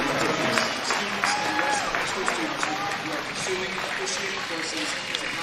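Crowd applause for high school students at a wrestling dual meet, a dense, steady wash of clapping filling the gym with cheers and voices mixed in throughout.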